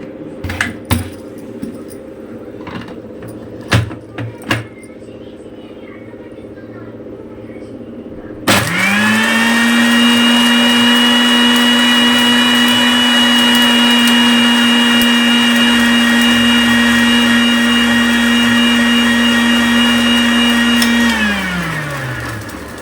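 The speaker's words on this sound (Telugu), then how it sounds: "ఇప్పుడు మిక్సీ పట్టుకోవాలి." A mixer grinder blends a summer drink of salt, rock sugar, onion and water: a few clicks and knocks, then the motor roars up loudly and runs steadily for about thirteen seconds before winding down.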